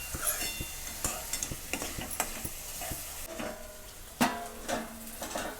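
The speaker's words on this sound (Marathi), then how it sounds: "असं तेलात कांदा टमाट्यासोबत आपल्याला तळून घ्यायचं आहे, चांगलं तेल सुटेपर्यंत।" Onion, tomato and peas frying in oil in a pan while being stirred, with a steady close sizzle broken by repeated scraping and clinking strokes of a spoon against the pan, no voices.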